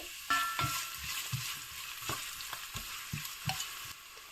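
Slit green chilies and thinly sliced onion fry in a pan with a soft, quiet sizzle, punctuated by a string of light spatula taps and scrapes as they are stirred.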